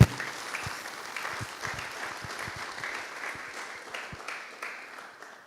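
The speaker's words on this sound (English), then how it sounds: "Yes, you can clap." Moderate audience clapping at a medical school white coat ceremony, starting with a sharp burst and continuing as uneven, loosely spaced claps that gradually thin out.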